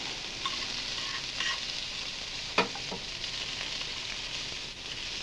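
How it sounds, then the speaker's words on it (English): Peppers fry in a pan with a steady, fairly soft sizzle. Occasional stirring scrapes come through, along with one sharper clink of a utensil against the pan. "I think I'll throw the peppers in now. Okay, we stick the peppers in."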